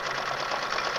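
Sewing machine running steadily during free-motion stitching on a daffodil appliqué, a brief close, even motor whir with a fast hum.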